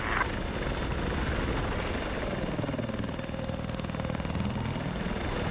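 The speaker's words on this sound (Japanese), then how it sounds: "いやー、かっこいいな、ヘリコプター。" A helicopter flies in Battlefield 4 with a loud, steady rotor and engine drone that holds without a break throughout, and no other sound stands out.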